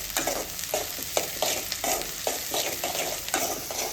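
Garlic, onion and spicy eggplant stir-fried in a pan, with steady loud sizzling and frying broken by repeated rhythmic scraping strokes of a stirring spoon.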